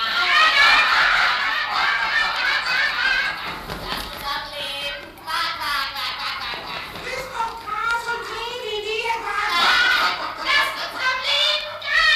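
Geese honk and cackle excitedly in a noisy, continuous clamor in a German fairy-tale audio drama, with a voice speaking over part of it.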